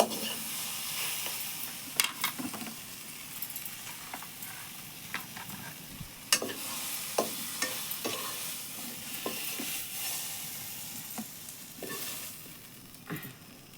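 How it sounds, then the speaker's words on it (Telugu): Gongura leaves frying in a kadai, a constant hissing sizzle with irregular scrapes and clinks of the spoon stirring against the metal, close and moderately loud, no speech. "అంటుకోకుండా అయ్యేంత వరకు వేయించుకోవాలి ఈ ఆకు అంతా గోంగూర"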